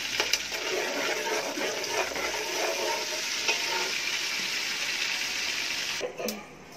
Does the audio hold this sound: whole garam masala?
yes